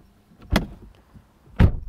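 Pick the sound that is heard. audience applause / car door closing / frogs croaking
car door closing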